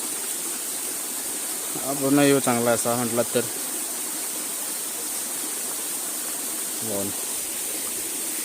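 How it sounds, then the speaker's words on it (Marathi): A small jungle waterfall running low on water gives a steady, soft rushing wash throughout, with people talking over it for a moment and a brief voice again near the end. "आणि आपला छोटासा धबधबा आहे पाणी कमी आहे आज"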